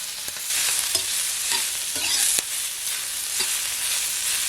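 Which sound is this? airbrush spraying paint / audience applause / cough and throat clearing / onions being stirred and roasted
onions being stirred and roasted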